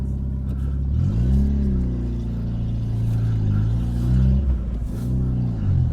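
A Fiat Panda driving for the first time after a full rear end rebuild, its engine rising and falling in pitch through gear changes, a close, steady mid-level drone heard from inside the car.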